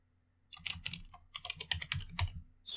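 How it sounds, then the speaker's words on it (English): Rapid keystrokes clatter on a computer keyboard while Python code is entered, coming in irregular bursts with short pauses, close and fairly loud, no one speaking. "whoops, I can't type"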